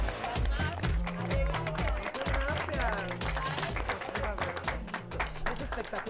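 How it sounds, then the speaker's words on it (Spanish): Audience applause for a drag show contestant on La Más Draga, heard as a crackly wash of clapping beneath loud, bass-heavy music that keeps a steady rhythmic pulse throughout. "un aplauso de verdad y felicidades, mi querida Margaret"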